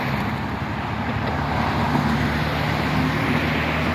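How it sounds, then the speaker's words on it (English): Peak-hour road traffic rolls past nearby, a continuous rumble of cars and engines with wind noise on the microphone, steady and moderately loud with no voices. "Yeah, it's a peak hour traffic in PK."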